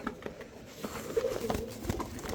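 A silver female pigeon giving soft, low cooing calls indoors, a few brief murmuring coos close by amid light rustling and shuffling.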